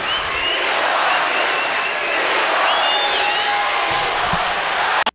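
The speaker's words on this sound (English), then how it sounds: "The crowd getting into it." A volleyball arena crowd roars and cheers continuously at a men's college match between Hawaii and BYU, loud and sustained for several seconds with whoops and clapping, ending in a sharp thump.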